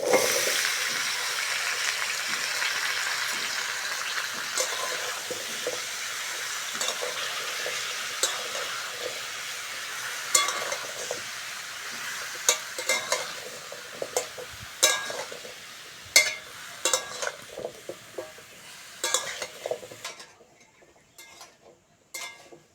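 Cut pumpkin, potato and drumstick pieces sizzle and fry in a pan while being stirred, a steady hiss with scraping strokes and clinks from the utensil that fades toward a quieter end.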